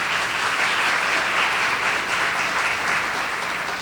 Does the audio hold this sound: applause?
yes